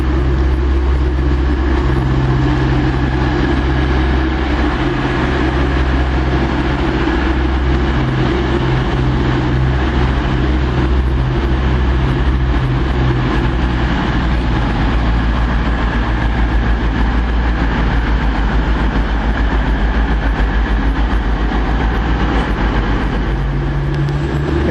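An East Midlands train at a station gives a loud, continuous low engine rumble and hum that holds steady throughout, close by with no voices.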